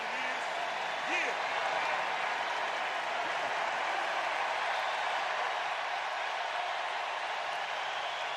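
A sellout crowd at Dodger Stadium for a World Series game roars in a steady, dense wash of cheering and applause, with a voice briefly audible over the din.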